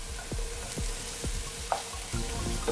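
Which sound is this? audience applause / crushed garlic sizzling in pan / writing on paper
crushed garlic sizzling in pan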